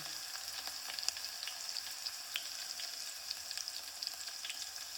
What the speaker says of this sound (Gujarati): તો અમે લસણનો વઘાર કરીશું.